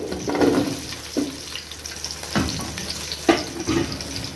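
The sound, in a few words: carrots sautéing with garlic and onion for lentil soup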